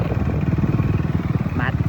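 A motorcycle engine rumbles steadily with a low, pulsing throb throughout, close and fairly loud.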